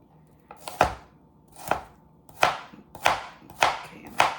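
A knife chops celery on a cutting board in six sharp, evenly spaced strikes, close and clear with no talking.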